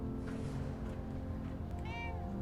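A cat in a video game meows near and clear, with a drawn-out call toward the end over a steady background ambience.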